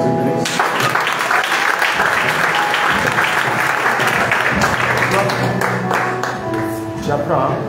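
Loud, sustained applause from a crowd acclaiming Jesus Christ during a charity event, dense clapping filling the whole stretch with voices mixed in.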